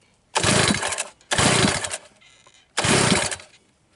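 An outboard motor on a jet boat sputters and fails to catch during repeated start attempts: three loud, rough, clattering bursts of roughly a second each, separated by short quiet gaps.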